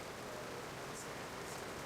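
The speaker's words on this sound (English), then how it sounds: "it's finally raining here" Steady rain falls in Pennsylvania after weeks of dry weather, a soft, even hiss of drops that stays constant and moderately close, with no voices.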